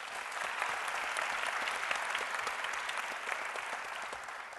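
Steady, dense applause from a conference audience at a panel discussion on social media, sustained at even loudness throughout with no talking over it.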